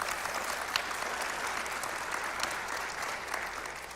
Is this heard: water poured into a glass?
no